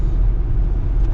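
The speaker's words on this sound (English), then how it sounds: "Exhaust leak, it does have headers on it." A 1972 Chevrolet C20 pickup with a 350 V8 and headers runs with an exhaust leak, giving a loud, steady, close low rumble with no break.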